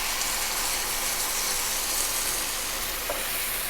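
Canned beans sizzle steadily in a hot pan with mushrooms and spices like paprika, oregano, chili and cumin, a continuous broadband frying hiss with faint stirring scrapes.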